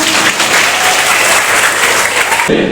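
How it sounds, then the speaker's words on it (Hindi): An audience at a school event applauds students with loud, dense clapping that fills the whole stretch, close and continuous before cutting off abruptly near the end. "सबके लिए ताली बजाओ प्लीज"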